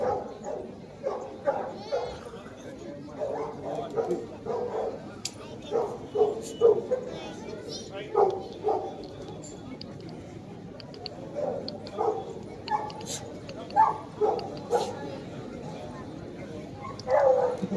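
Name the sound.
dogs at a dog show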